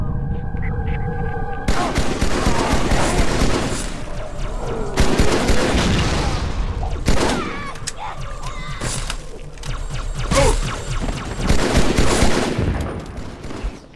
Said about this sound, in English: That Shadow's gun packs a punch.